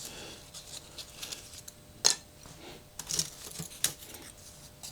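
Small crisp snips and light scraping while model aircraft parts are cut out, a few sharp clicks standing out over a faint, steady background, with no speech.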